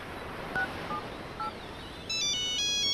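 A phone rings for an incoming call in a home scene. Brief electronic keypad-like beeps come first, then a bright repeating ringtone melody grows louder toward the end. Nobody speaks.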